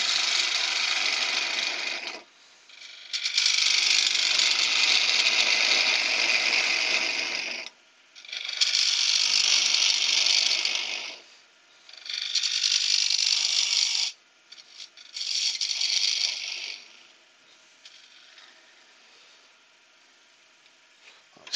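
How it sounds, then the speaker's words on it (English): A 3/8 bowl gouge cuts into a wooden bowl spinning on a lathe, giving loud, hissing bursts of shaving noise in four or five passes separated by short pauses, with quieter motor hum between and trailing off at the end. "So we'll just clean this out with a 3/8 bowl gouge."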